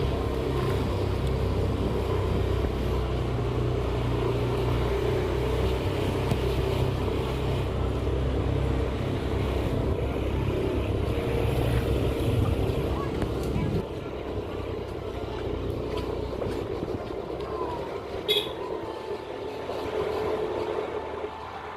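A motorcycle ridden out in the rain gives a steady, close engine drone beneath a broad wash of wind and rain noise that holds throughout.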